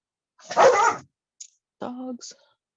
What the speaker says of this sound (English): I have a new rescue dog and her puppy here, and my dog's been mad about it